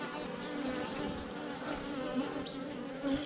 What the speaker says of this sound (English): I got a lot of them up here by my head, letting me know they're not too happy about this.